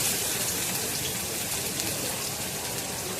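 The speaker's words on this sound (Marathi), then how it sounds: "तेल चांगलं गरम झालं, आता त्याच्यामध्ये आपण टाकणार आहे कांदा बारीक केलेला" Finely chopped onion sizzles in hot oil, a steady dense crackle and hiss filling the whole stretch at close range, with no voices over it.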